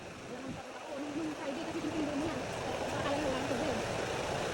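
Strong current of a stream on the trail to Silvermine Waterfall, a steady broad rushing wash under someone talking nearby.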